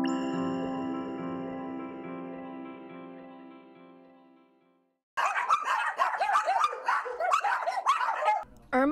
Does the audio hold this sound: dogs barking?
yes